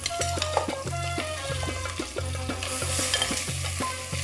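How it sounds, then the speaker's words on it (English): A kilo of mutton fries and is stirred in a pan over a high flame, giving a steady loud sizzle broken by regular rhythmic scraping strokes of a spoon against the pan. "I have a kilo of mutton, which I'm going to fry on a high flame for 5 to 6 minutes."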